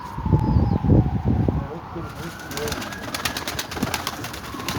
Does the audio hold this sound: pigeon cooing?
yes